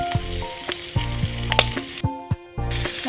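Clam meat frying with coconut, curry leaves, ginger and green chilli sizzles loudly in a pan, broken by repeated spoon clanks and scrapes as it is stirred, with a brief dip to near quiet partway through.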